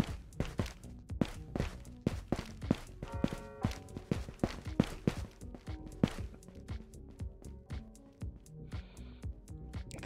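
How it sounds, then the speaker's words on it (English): Rapid footsteps from the VR shooter Ghosts of Tabor, on the Matka Miest map, patter as a steady run of sharp, close thuds and scuffs, fairly loud with a few brief tonal game sounds mixed in. "I hear more footsteps."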